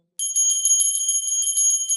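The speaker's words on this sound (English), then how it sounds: "please ring the bell as you do so" A small metal hand bell rings quickly and continuously during arati before a Shivalinga, its bright, high, shimmering strikes coming close and loud in a steady rapid pulse without any talk.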